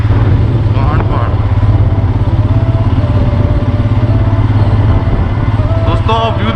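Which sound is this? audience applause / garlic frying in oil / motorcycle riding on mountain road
motorcycle riding on mountain road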